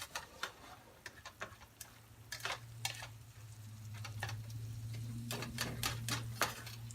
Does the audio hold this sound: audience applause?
no